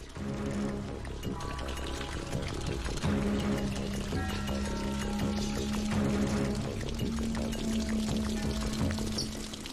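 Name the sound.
water being poured out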